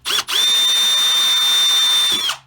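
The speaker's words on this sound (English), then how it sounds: "So you'll drill a small hole" A small power drill with a center drill bit whines at a steady high pitch drilling a small hole, a short burst followed by a longer continuous run, then spins down.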